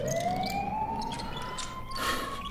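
An ambulance siren rising in a steady, close, loud wail that slowly climbs in pitch, sounding alone without voices.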